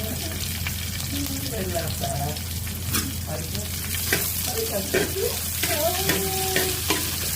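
Chopped onion goes in with browning garlic in a hot pan, producing a continuous bright frying sizzle with occasional stirring scrapes while people talk over it.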